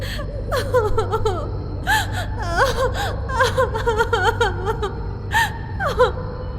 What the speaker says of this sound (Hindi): अरे, इतनी रात गए लड़की के रोने की आवाज।